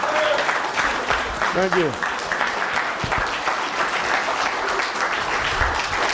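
An audience at a talk by a speaker gives sustained applause throughout, with a brief spoken thanks and a faint voice mixed into the clapping.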